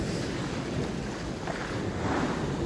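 Turbulent sea water surging against the shore at a very high tide on a winter night, a steady close wash of surf mixed with wind buffeting the microphone, no voices.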